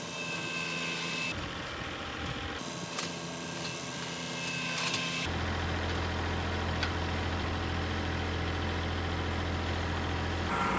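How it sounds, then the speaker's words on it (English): A farm tractor engine idles and then settles into a louder, steady low hum, with a change in tone partway through. "I'm just gonna get the forks on my tractor and do it that way."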